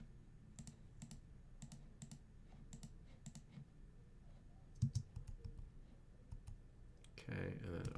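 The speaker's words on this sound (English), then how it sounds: "Start navigating using keyboard keys." Computer keyboard keys pressed in short bursts of crisp clicks and taps, fairly quiet and close, while someone navigates a page during a coding session, with a louder clatter near the end.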